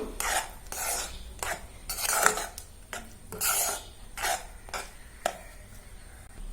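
A spoon stirring a sweet banana mixture in a pan, with repeated scraping and rubbing strokes at a steady, close rhythm and no talking.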